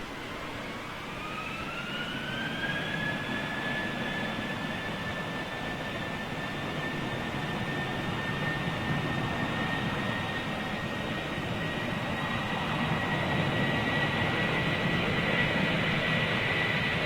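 An aircraft at Manchester Airport gives a rising whine that levels into steady high tones over a constant broad engine roar, moderately loud and unbroken, with no voices.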